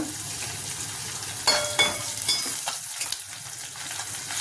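Onion, curry leaves and garlic sizzle in hot oil for pappu charu, a steady crackling fry with a louder burst partway through and a few stirring clatters from the pan.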